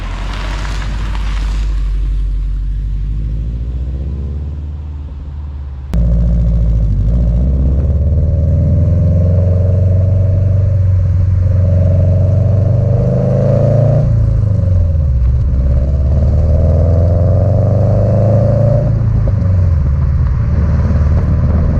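A modified Subaru Legacy GT wagon driving and accelerating, its engine note loud and close, rising through repeated rev climbs and gear changes with a steady rumble underneath and no voices.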